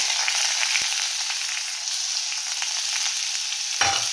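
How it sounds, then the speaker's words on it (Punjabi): Cumin seeds and grated onion fry in a pan for a paneer sandwich filling, giving a steady, loud, close sizzle and crackle with a couple of brief clinks from stirring. "ਆ ਜੀਰਾ ਸਾਡਾ ਭੁੱਜ ਗਿਆ ਆ ਦੇਖੋ ਤੜ ਤੜ ਦੀ ਆਵਾਜ਼ ਆ ਗਈ"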